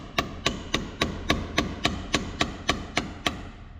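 Chisel lightly tapping on a farm tractor's starter terminal, as a steady series of about a dozen sharp metallic taps at an even, quick pace, close and alone.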